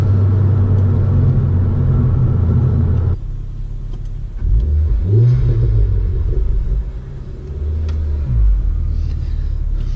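A Mk2 Ford Focus ST engine pulls hard under turbo boost, a loud low droning rumble heard from inside the cabin that drops briefly, then climbs again with rising revs before easing off.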